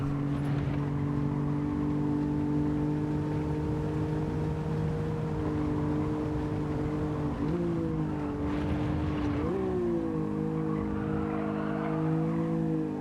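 Race car engine in Gran Turismo 7 during a Master licence test, a steady loud droning tone that holds, then steps up in pitch twice as the car accelerates through gear changes, with no talking.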